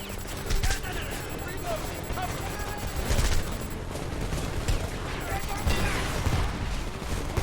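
Dense gunfire and booming explosions rattle nonstop in a chaotic battle in the game Homefront, with voices speaking over the din.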